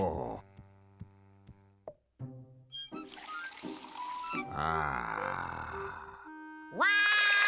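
Water poured into a glass in a Woody Woodpecker cartoon, with a rising gurgling pour between sparse plucked and tonal cartoon effects, all fairly loud and free of talk.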